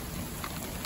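Steady broadband hiss of heavy rain falling through a storm at an outdoor fritanga cookout, continuous and fairly loud, with no talk over it.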